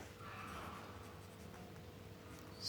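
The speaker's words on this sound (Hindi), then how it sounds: "हम लिखेंगे यहाँ पे" Quiet scratching of writing on a board during a lecture, faint intermittent strokes over low room noise with no talk.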